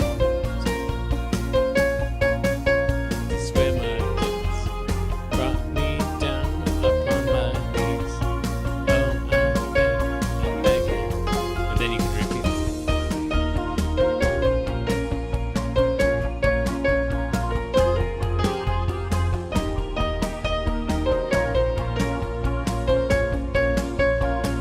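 Piano playing the melody of a song over a full backing track, fast repeating arpeggiated notes with steady drums and bass throughout, dense and continuous with no talking.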